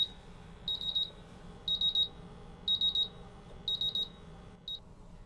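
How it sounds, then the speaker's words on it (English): A MultiRAE gas detector's alarm buzzer sounds during a bump test in five quick, evenly spaced bursts of rapid high beeps over a low background hum. "I can feel the vibration alarm, I can hear the buzzer"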